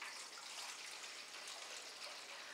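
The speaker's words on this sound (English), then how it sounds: "4 cups of really warm water." Four cups of very warm water pour steadily from a tap for bread dough, a continuous close hissing rush with no pauses and no voices.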